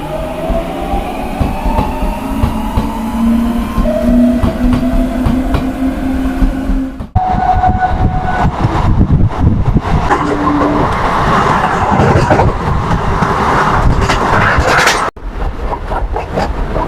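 A late-night empty local train heading toward Bardhaman runs on the rails, with a steady rumble and rattling wheel noise. Brief abrupt breaks in the din suggest joints or passing structures, and no one speaks.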